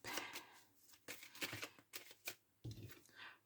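Oracle cards from a deck called the garden of secrets shuffled by hand for a nine-card reading, with repeated papery riffles and slaps in irregular bursts, close and crisp with no talking.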